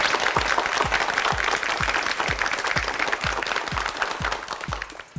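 A Korean TV quiz show's studio audience applauds, a loud, sustained burst of many hands clapping with rhythmic heavier claps running through, tapering slightly at the end.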